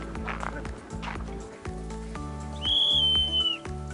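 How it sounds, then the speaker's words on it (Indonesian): A single shrill whistle blast lasting about a second rings out over steady rhythmic background music with a repeating beat. "udah ada peluit tuh"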